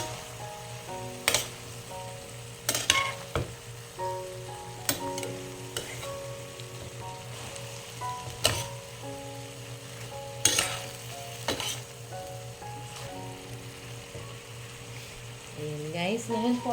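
Flat beans and beef stir-fry in a pan, with a low sizzle under repeated sharp clacks and scrapes of a utensil stirring against the metal, spaced every second or two.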